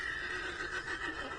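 A horse whinnies in the video game Red Dead Online, a short, fairly faint neigh heard on its own with no talking over it.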